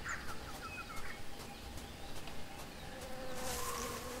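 Buzzing of a bee in a jungle scene from the Tales of Monkey Island video game, a faint thin drone over a dense backdrop of insects and birds, with brief chirps and calls dotted through it.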